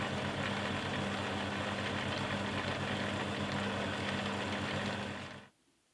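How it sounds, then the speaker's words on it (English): A metal lathe running slightly too slow cuts a 55-degree Whitworth thread with a ground high-speed steel tool, giving a steady, loud motor hum and grinding noise that stops abruptly near the end, with no talking. "The lathe is running a little too slow and it's not liking the cut"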